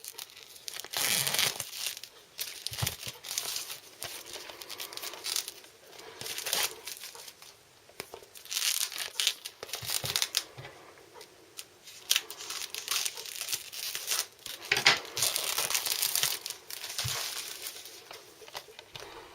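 Cellophane wrapper crinkles and tears as it is peeled off a limited edition anime Blu-ray box, close-up bursts of crackling plastic coming in repeated waves with short pauses between.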